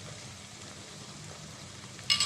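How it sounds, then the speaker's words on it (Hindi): Beef keema frying with yogurt in a pan, a low steady sizzle throughout and a brief clatter at the very end. "अब इसको हम दही के साथ अच्छी तरह से फ्राई करेंगे।"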